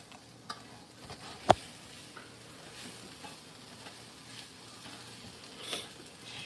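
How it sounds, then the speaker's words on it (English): A spoon stirs and scrapes food, candied pork tenderloin or chicken fusilli with sweet potato, around a pot over a soft sizzle, with one sharp clink partway through and occasional light taps, no talking. "Stir these up again."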